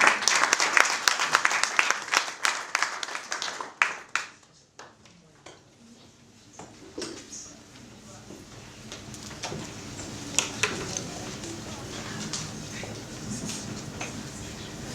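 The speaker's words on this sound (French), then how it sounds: "Maman Florence, que je vous prie d'applaudir" Dense applause from a crowd at an inauguration evening fills the first few seconds, then fades into a quieter room with scattered claps and murmuring.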